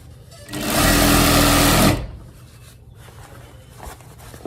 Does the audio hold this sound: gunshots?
no